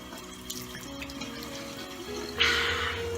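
Tap water from a bathroom faucet runs steadily as face cleanser is rinsed off, with a brief louder, brighter splash of the stream near the end; no one speaks.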